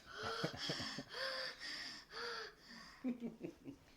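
A voice imitates Darth Vader's raspy, mechanical breathing: several slow, hoarse inhale-exhale cycles in a steady rhythm, close and moderately loud, ending in a few shorter choppy breaths.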